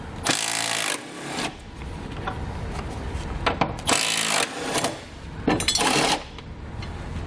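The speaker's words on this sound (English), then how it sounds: "So we can grab a 17mm socket and pull those 2 bolts out." A 17mm socket on a ratchet or power tool works two bolts out of a tie-down hook under a 2017 Toyota RAV4 during a trailer hitch install. Several bursts of loud mechanical whirring and clattering come close up, separated by brief pauses.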